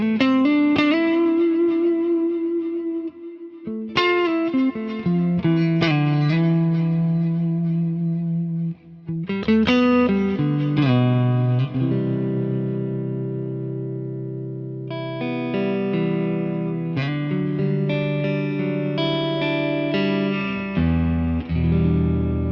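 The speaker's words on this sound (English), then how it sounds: "you can hear the delays are kind of interacting with each other" Electric guitar, a Fender Telecaster through a Fender '64 Deluxe amp preset, playing chords and notes drenched in layered circular delay repeats that smear and overlap, with distorted, echoing tails throughout, no voices.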